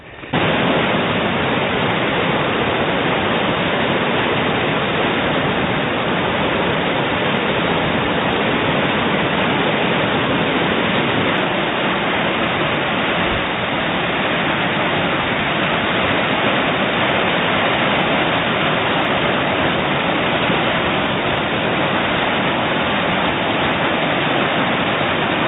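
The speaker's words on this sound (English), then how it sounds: "the waves actually going over the top of the cliff" Heavy sea waves crashing over the top of cliffs beside a lighthouse, a loud, continuous roar of surf and spray that runs unbroken throughout with no talk.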